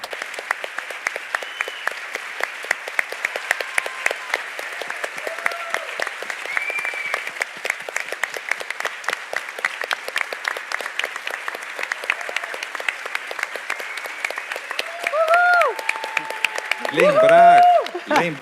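Audience at a literary festival panel gives warm applause for the curators: brisk, crisp clapping from a sizeable crowd, steady and fairly loud, swelling near the end as cheers and whoops rise over it.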